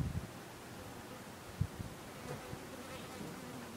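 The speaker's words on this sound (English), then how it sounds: "Are they small carpenter bees?" Carpenter bees buzz faintly around a tree in bloom in July, giving a soft, steady hum under quiet outdoor background noise, with a few light knocks and no talking.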